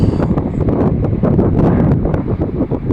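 Steady, loud wind buffeting outdoors in Salekhard, Yamal, Russia, with gusty rushing noise, no talking.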